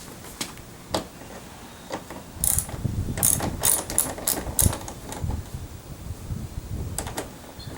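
Ratchet wrench turning out 10mm bolts under the front bumper cover of a 2002-2006 Honda CR-V, a close, rapid clicking burst of several pawl clicks after a few scattered clacks, then quieter tool handling.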